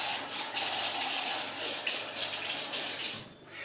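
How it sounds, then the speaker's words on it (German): Tap water runs steadily into a kitchen sink during hand washing between steps of making potato waffle batter, a close, continuous splashing hiss with slight swells in flow and no talking. "Und danach erstmal gründlich Hände waschen."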